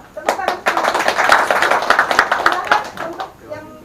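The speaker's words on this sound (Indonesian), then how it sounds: "Tepuk tangan" Clapping hands at a talk about parenting teenagers, a ragged burst of claps from several people over about three seconds with voices talking underneath.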